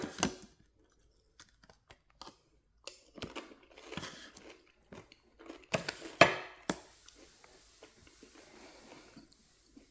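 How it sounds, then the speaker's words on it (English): Elote Tostitos tortilla chips are crumbled by hand over a creamy bisque, sharp dry crackles in scattered bursts, followed by a crunchy bite and chewing, close up and fairly quiet. "let's finish up the video by crumbling one of these Elote Tostitos over top and taking a bite."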